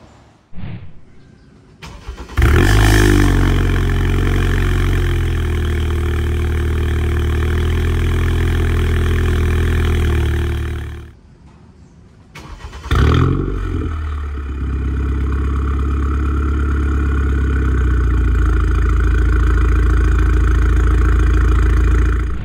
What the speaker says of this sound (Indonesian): Inilah suara knalpotnya kalau dia lagi cold start.